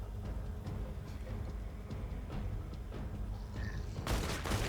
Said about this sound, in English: If we just shoot him in the head